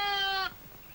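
A single sheep bleats close and clear for about half a second, a harmonic nasal cry that cuts off abruptly, followed by quiet background.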